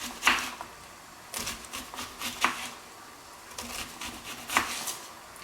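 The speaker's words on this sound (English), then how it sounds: "And then I just cut down the face of the onion." A knife cuts down through an onion on a kitchen board, giving three crisp chopping taps spaced roughly two seconds apart over quiet room noise.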